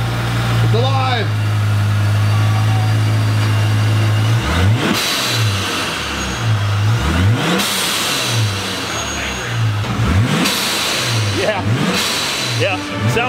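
Supercharged Jeep Gladiator engine catching and then revving repeatedly, with rising and falling sweeps over a steady idle, loud and close, while people talk over it.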